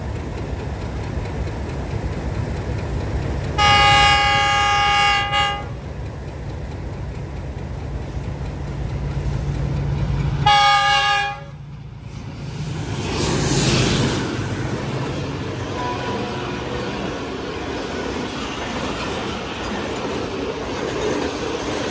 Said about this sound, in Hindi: 101 अब सुबह रफ्तार रेल कार वज़ीराबाद से चल के हरीपुर बांध रेलवे स्टेशन से मेन लाइन थ्रू पास कर रही है